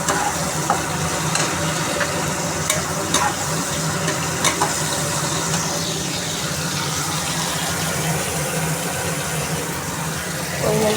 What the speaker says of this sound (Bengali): পেঁয়াজের সাথে রসুনটাও ভেজে নেব